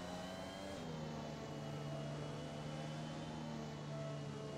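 A car engine in a racing video game revs hard while the rear tires spin, holding a steady, buzzing high-pitched drone with a faint whine layered over it. The sound is continuous and even in loudness throughout.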